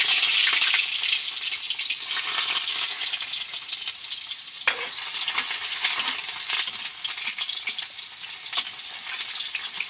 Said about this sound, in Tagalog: Mainit na yung mantika. Igisa po yung bawang,